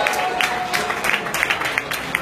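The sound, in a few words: audience applause at film awards ceremony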